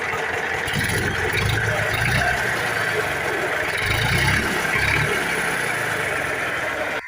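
A tractor's diesel engine runs loudly up close with a steady rumbling drone, swelling briefly as it revs.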